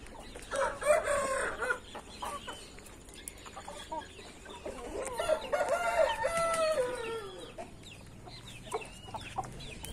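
Indian gamecock rooster crowing on a hot day, two long crows close by, with faint farmyard background between them.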